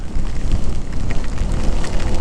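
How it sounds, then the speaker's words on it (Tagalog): Heavy rain pours during a foggy mountain ride on a Honda ADV 160 scooter, a loud dense wash of noise with rumbling wind buffeting, constant and close throughout. "Lakas lang ng ulan."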